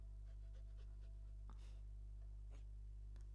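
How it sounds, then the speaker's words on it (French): A small adopted dog in the video game Tiny Bookshop pants softly in quick rhythmic breaths over a constant low electrical hum, the puffs faint and irregularly spaced. "J'aime trop entendre le bruit du chien."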